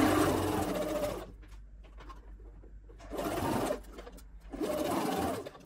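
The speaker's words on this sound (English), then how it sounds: "Place the top and bottom bodice together and stitch together." A sewing machine runs in three sustained bursts, joining the top and bottom bodice pieces of a bubble frock, its close, steady whir broken by quiet gaps with light handling noises.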